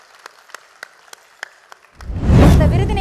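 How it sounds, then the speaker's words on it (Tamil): Audience in a packed hall bursts into loud applause for a singer at an awards event, following a few sparse scattered claps before the full roar swells in. "ஒரு அரங்கம் நிறைந்த கைத்தட்டல் கொடுத்துடலாம்"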